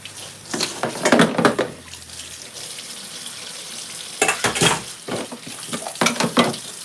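Washing a child's lunch bowl in water: splashing and sloshing with light clinks of the bowl, coming in two busy bursts separated by a quieter stretch, close and fairly loud.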